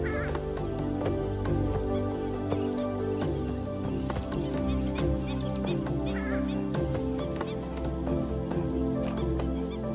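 A purple swamphen gives its loud, harsh, explosive call repeatedly from nearby, with other birds calling around it in a busy Thai wetland soundscape.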